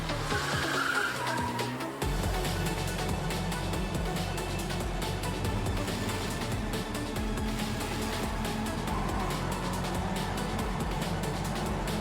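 A race car in a video game with tactile driving physics, skidding and drifting with constant tire squeal and engine roar after a sudden start, loud and close throughout, with no talk.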